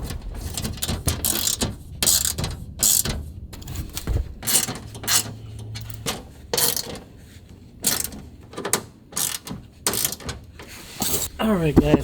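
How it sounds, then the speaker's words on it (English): A ratchet tightens an oil drain bolt in a series of short, sharp clicking bursts separated by brief pauses, with some clanking of metal parts nearby. "plug it in, and then tighten the drain bolt."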